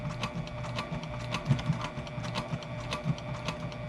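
A sewing machine stitches slowly over a fabric mask while attaching bias tape ties, producing a steady rhythmic mechanical clatter with repeated ticking beats, close and continuous.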